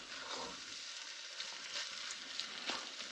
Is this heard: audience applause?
no